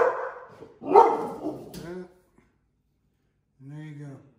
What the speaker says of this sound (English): I don't know what the dog freaked out about.